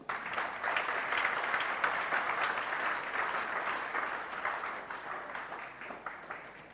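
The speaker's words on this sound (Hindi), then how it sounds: "जोरदार तालियां" A seated audience at a spiritual training camp session in Nathdwara breaks into loud applause, a continuous fairly distant clapping that swells early and gradually tapers off.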